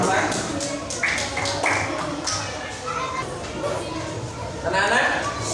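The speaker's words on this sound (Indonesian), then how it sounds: "Tepuk tangannya." Sixth-grade schoolchildren clapping in a classroom for a discussion group, uneven bursts of close applause mixed with children's chatter and voices.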